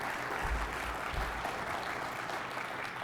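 An audience at a press conference gives a round of applause, steady dense clapping that holds at an even level throughout.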